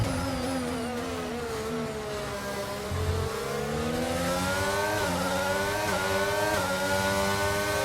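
Race car engine in the F1 2022 game on the Circuit of the Americas, revving steadily with rising and falling whine as the car slides, continuous and close with no talk.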